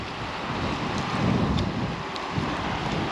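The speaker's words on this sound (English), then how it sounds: "It's getting a bit windy and a bit grim looking." Steady gusting wind buffets the microphone beside the River Tay, a constant low roar with slight swells, with no voices.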